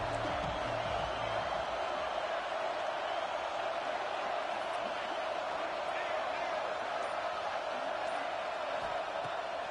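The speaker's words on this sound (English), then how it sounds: "Here comes the noise from this big crowd in Happy Valley on 3rd down." Steady, dense roar of a large college football stadium crowd at Happy Valley on third down in a video game, continuous and distant-sounding, with a broad wash of noise that never lets up.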